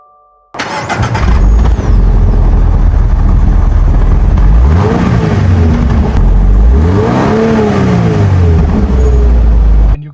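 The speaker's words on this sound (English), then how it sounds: "Let's start this engine and find out how it's like to hear." A 2026 Toyota GR86 manual sports car fires up close and loud, the starter catch giving way to a strong engine note, then two rising revs that climb and fall back to idle.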